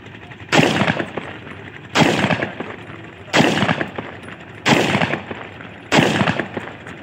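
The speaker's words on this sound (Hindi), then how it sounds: "पांच फायर इस पे भी हो गए" A 30 bore 14-shot pistol test-fires single shots outdoors, five sharp, loud reports at roughly even intervals of just over a second, each trailing into a short echo.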